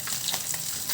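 Milkfish steaks frying in an oiled pan give a steady, close sizzle with continuous crackle and bubbling throughout, alone without talk.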